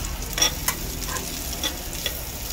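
Ginger sautéing in a pan, a steady hiss of frying with a few light clinks of a utensil stirring, close up and no talking.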